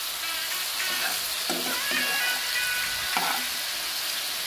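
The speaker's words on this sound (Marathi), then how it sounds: "कोलंबी कशी भाजताना चळचळ आवाज आला पाहिजे, तरच ती मजा येते." Prawns fry in a hot pan with a dense, continuous crackling sizzle, broken by a few brighter bursts of spitting and stirring, close and with no one talking.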